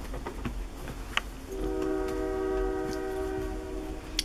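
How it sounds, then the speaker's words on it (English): A distant train horn sounds in one sustained blast, faint against quiet background noise, with a few soft clicks nearby. "Can you hear the train?"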